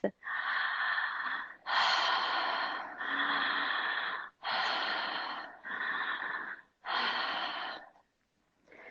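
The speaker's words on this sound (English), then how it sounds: "going straight into your exhale, at the bottom of your exhale, going straight into your inhale, coming into a circle of breath" Slow, deep breathing cycles in a continuous circle, each inhale and exhale a long, close, airy rush of about a second and a half, six in a row with hardly any gap, ending in quiet.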